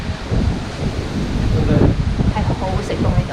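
Gusty wind at Glastonbury Tor in England, loud rumbling gusts pounding the microphone close up and swelling and easing without pause.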